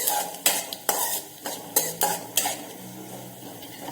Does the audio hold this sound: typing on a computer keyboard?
no